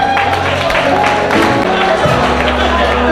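Wedding congregation applauding and acclaiming together, a steady wash of clapping and crowd noise with voices mixed in, loud and continuous throughout.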